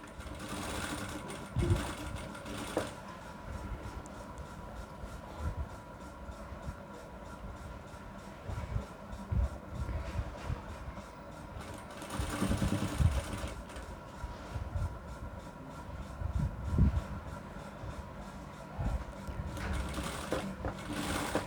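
Sewing machine stitching a frill onto a pillow cover, a close, fast steady mechanical whirr running in bursts with brief pauses and light clicks between runs.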